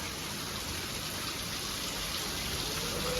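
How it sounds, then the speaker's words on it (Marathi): Steady, even rainfall pours down close by, a dense unbroken hiss of drops with no voices. "कसला पाऊस झाला"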